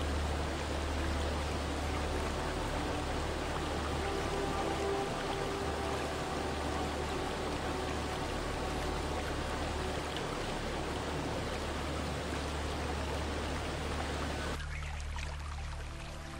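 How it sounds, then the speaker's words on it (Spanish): Peñaral waterfall on the Nervión river, a steady, loud broadband rush of falling water that continues unbroken and close for most of the clip before dropping away near the end. "El auténtico tesoro se encuentra a pocos metros. Es todo un espectáculo. Se llama la Cascada de Peñaral."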